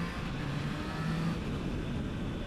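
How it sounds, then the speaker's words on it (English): A Triumph Trident motorcycle engine accelerates with a steady growling drone, heard from onboard with constant wind noise. "This engine has this very addictive growl to it."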